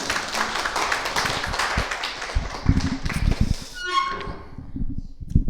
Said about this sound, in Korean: 다 같이 박수로 환영해 주시기 바랍니다.